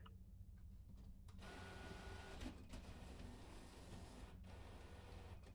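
A printer in the video game A Place, Forbidden whirs into a long steady mechanical grinding hum, quiet and continuous with a few soft clunks, alone without talk.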